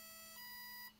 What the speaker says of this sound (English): We're then going to full acceleration until it beeps